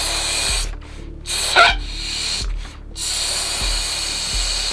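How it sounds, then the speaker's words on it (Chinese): Someone blows up a balloon as a breathing exercise for singing practice, with several long, breathy rushes of air into the balloon separated by short pauses, close and fairly loud with no talking. "先把这气球吹到比较大。"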